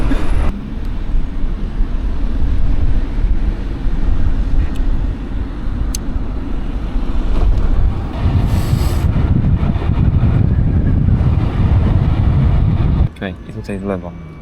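Wind gusts buffet a rider on a moving scooter, making a loud, steady low roar that continues for several seconds before dropping off abruptly near the end.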